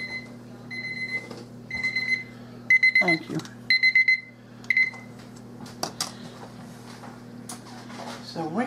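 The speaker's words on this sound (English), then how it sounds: "It's my timer." A kitchen timer beeps in repeated rapid bursts, clear and close, while a few people talk briefly between and after the beeps.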